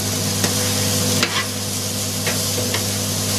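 Peas stirred into a minced beef cottage pie filling in a pan, with a steady low sizzle and hum under a few soft scraping and clinking strokes, close and without talk.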